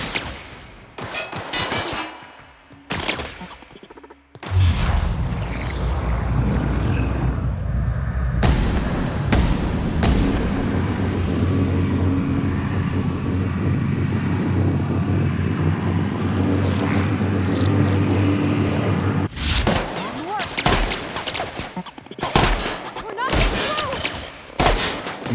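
Gunfire in The Outer Worlds video game: clusters of sharp, loud shots at the start and end, with a long stretch of heavy rumbling blasts and roaring noise between them, and a voice speaking in places.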